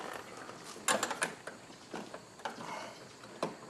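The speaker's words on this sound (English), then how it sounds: "I'm just going to undo the electrical connector on it." An electrical connector on the front window motor of a 2001 Buick Park Avenue is worked loose by hand, producing a few faint, close plastic clicks and taps over quiet background noise.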